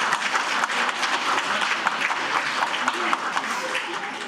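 Sustained audience applause at a social welfare policy forum as lawmakers leave the hall, dense steady clapping filling the room, with some voices faintly underneath.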